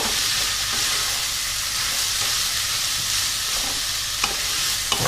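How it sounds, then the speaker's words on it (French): Rice stirred in a pot with fat and other ingredients, making a continuous loud sizzle and hiss with a couple of sharp spoon taps near the end, close up and with no speech. "Là, je vais bien mélanger pour que le riz puisse s'imprégner un petit peu de toute la matière grasse"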